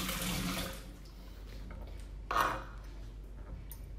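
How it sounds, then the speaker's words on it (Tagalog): A lemon being washed under a running kitchen tap, with water splashing in a steady wash that swells briefly into a louder burst midway before settling back down. "First, hugasan natin mabuti yung lemon na gagamitin natin."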